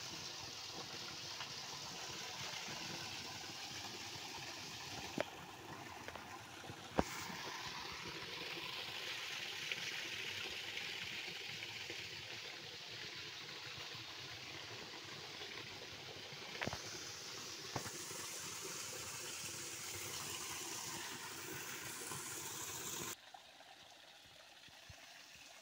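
Clear stream water at Riacho das Larges, near a waterfall, flows as a steady broadband rushing hiss with a few faint clicks and no voices.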